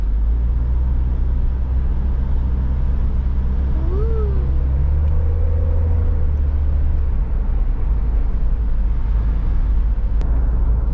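A 1979 Opel Rekord car on the move, its engine and road rumble forming a loud, steady low drone throughout, with a couple of brief tonal squeals partway through.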